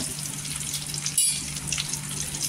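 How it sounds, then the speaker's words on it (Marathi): Green chillies sauté in oil, giving a soft, steady frying hiss with a brief scrape midway, close and without talk. "इथे मिरच्याला पण तेलावर छान असे परतून घ्यायची"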